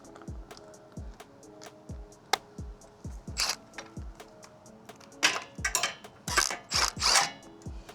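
Rapid ratcheting clicks from a 14 mm socket on a hand ratchet working on the rear wheel of a Honda Shadow motorcycle, repeated short bursts of metallic pawl ticks with pauses between, close and fairly loud.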